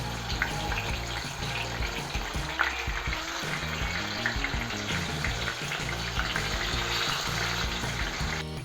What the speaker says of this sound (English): So we're gonna cook the fish or fry the fish only in medium flame.